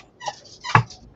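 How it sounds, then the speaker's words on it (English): Two short, high yips from a small dog, the second louder, in an otherwise quiet space. "listen to them dogs"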